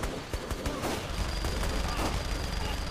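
Dense, continuous gunfire in the action video game Saints Row 3, with rapid overlapping shots forming a loud, sustained volley over three seconds.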